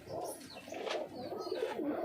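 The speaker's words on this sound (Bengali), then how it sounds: "এই যে গাইজ এই একটা নতুন পায়রা" A white pigeon gives low, throaty coos close by, a short rolling call that fills the brief moment at quiet level.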